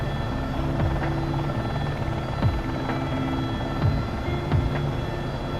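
AS350 B3+ helicopter in a flight simulator, a steady, loud turbine and rotor drone with a thin high whine and faint periodic swooshes, continuous and alone.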